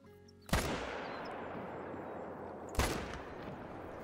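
A rifle fires at a whitetail deer in a hunting video game on Layton Lake, two sharp, loud gunshots about two seconds apart, each leaving a long echoing tail across open terrain.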